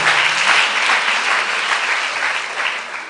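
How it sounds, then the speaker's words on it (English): An audience at a youth STEM camp event gives a round of applause, a dense, steady wash of clapping from many hands that holds strong throughout and eases slightly at the end. "Oh, please, a round of applause to her."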